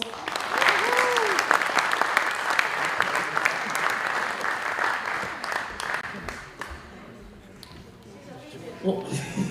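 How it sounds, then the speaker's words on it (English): A loud round of applause with cheers from a crowd at a Pacific youth crusade, Samoan night, strong at first and tapering off toward the end, with a voice briefly heard under the clapping. "All right, just give him another round of applause."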